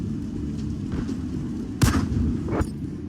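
Artillery cannon firing in a World of Tanks-style tank game, a sharp burst followed by a second blast about a second later, both over a steady low rumble.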